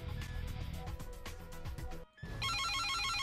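A new emergency call alert rings out in the video game Emergency 4, a bright repeating electronic tone that enters loud after a brief gap in dense game music and ambience.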